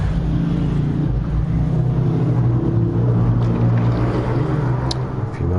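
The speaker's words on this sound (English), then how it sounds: "A few motorbikes going past the house," A few motorbikes pass by a house, their engines making a steady, continuous droning rumble that stays loud and even throughout, with no voices.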